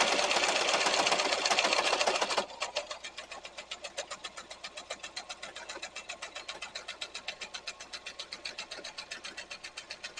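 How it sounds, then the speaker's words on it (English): A sewing machine stitches a leather tote bag, running a second line of stitching alongside an existing one. A loud, fast burst opens the run, then it settles into a steady, rapid rhythmic chatter of needle strokes. "I want to see if I can kind of double that stitch up."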